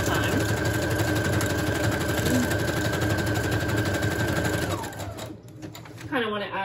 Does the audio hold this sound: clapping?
no